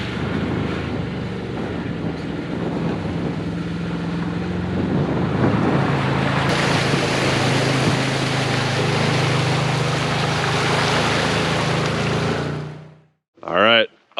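A Can-Am Commander XT-P 1000R side-by-side drives through deep coastal water and waves, its engine a steady near drone under sloshing water and wind, ending with a short burst of speech.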